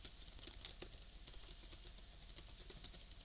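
Quiet, rapid keystrokes on a computer keyboard, a steady run of soft clicks with a few sharper taps, heard alone without speech.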